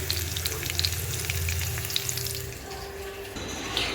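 Potatoes frying in hot oil for chicken biryani give a steady, close crackling sizzle throughout, with small pops and light stirring clatter, no voices.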